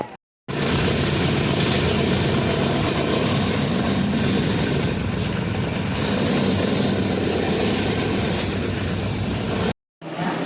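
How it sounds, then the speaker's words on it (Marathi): Steady loud rumble of a moving train bound for KSR station, continuous broadband rattle and hum throughout, with a brief drop-out near the start and end. "आता ट्रेन चालली आहे."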